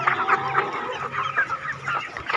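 Several hens on a small Isan farm cluck steadily up close, their short, rhythmic calls overlapping in a busy, continuous chorus over the brief stretch.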